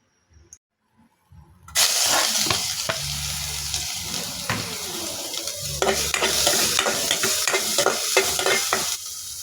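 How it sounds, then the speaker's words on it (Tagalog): Garlic and onion hit hot cooking oil and sauté, a sudden loud sizzle after brief quiet, then a steady frying hiss with repeated stirring scrapes, close up. "sisimulan natin ang pagluluto sa paggisa ng bawang sibuyas"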